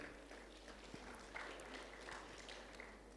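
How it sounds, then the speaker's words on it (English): Conference audience clapping for a presenter at an agriculture meeting, a faint, distant and steady patter of many hands with a few sharper claps standing out, continuing throughout. "So another round of applause for him,"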